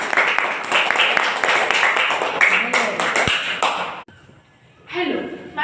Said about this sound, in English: Clap for Ambika